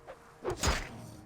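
A single quick swish followed by a dull thud, a short whooshing swing that lands on nothing, with quiet background hum.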